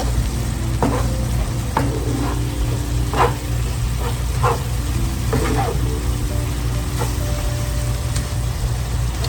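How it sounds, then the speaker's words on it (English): Onions and jalapenos sizzle and fry in a pan, a steady close hiss broken by occasional stirring scrapes, with a faint background hum throughout. "we're just gonna let this cook down until our onions are cooked through and our jalapenos."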